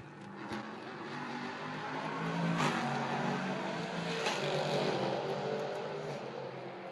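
GT race cars approach at the Nevers Magny-Cours circuit, a broad engine roar that swells and stays loud across the stretch, heard from a distance beside the track.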